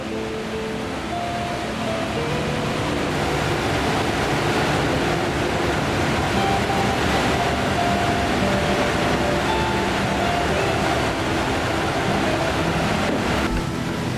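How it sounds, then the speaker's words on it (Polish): Water rushes into a canal lock chamber at Koźle on the Gliwice Canal as the upper sluice gate lowers, a loud, steady, close roar of churning flow that continues without a break. "Górna zasuwa wędruje w dół, powodując wylewanie się wody do komory."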